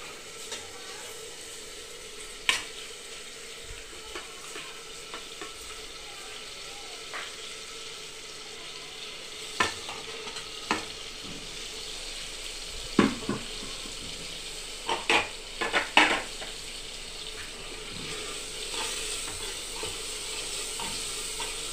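Green chili keema with tomatoes and spices fries in a pan under a continuous soft sizzle, punctuated by scattered clinks and scrapes of a spoon stirring against the metal.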